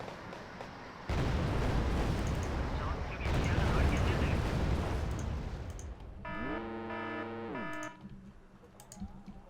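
In Wargame: Red Dragon, F-5 jets bomb a recon squadron, a heavy sustained roar of blasts rumbling for several seconds, followed by a tonal electronic warbling effect and a quieter tail.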